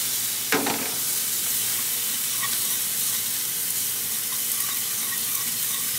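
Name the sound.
flat iron steak searing in a pan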